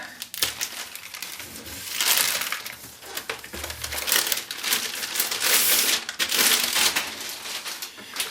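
A blade cuts through the cardboard and packaging of a Dell G5 15 5590 laptop box, giving steady close scraping and crinkling that swells and fades for several seconds.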